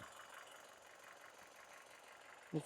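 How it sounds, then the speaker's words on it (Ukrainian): A used car engine idles quietly and evenly at a car market, a low steady hum with a soft knock near the end. "реально двигун працює просто рівно, реально шепче"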